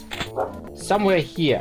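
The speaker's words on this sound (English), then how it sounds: "I do apologize for my dogs." Dogs barking in a house, a few short yips and bow-wow barks in quick succession close by, with a person talking over them.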